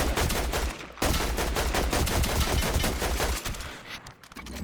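Rapid, sustained automatic gunfire from a Fortnite match, loud and dense bursts running almost continuously with a brief break near the end.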